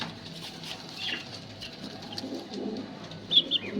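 Young pigeon squabs of the English breed in a nest, giving soft faint cooing and pattering rustles with a brief sharper chirp near the end, no speech.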